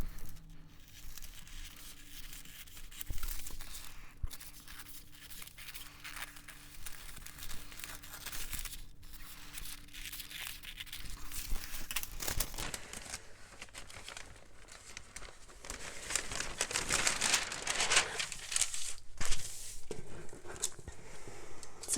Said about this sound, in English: we're now going to cut along this line up here